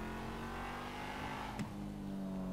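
A car engine revs and accelerates in a racing video game, a loud, steady droning whine that holds evenly throughout with a slight pitch shift near the end and no talking.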